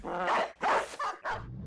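A war dog in the video game Battle Brothers gives three loud, close barks in quick succession, each a sharp yelping bark with short gaps between.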